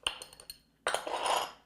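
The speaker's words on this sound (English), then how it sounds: "I'm actually cutting the butter in using a pastry blender" Pastry blender cutting cold butter into flour with a touch of salt for chive and cheddar biscuit dough: a few light metallic clinks and taps, then a longer scraping, crumbly rustle close up, moderately quiet, with no talk.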